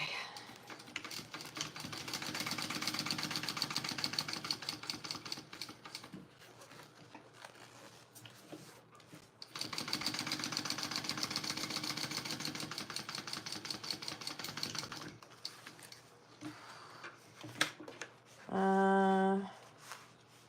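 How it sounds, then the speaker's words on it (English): A sewing machine top stitches a Tracy Wristlet in two long, rapid, rattling runs separated by a pause, fairly quiet and close, followed by a short electronic beep. "Now we're going to sew that on. And top stitch."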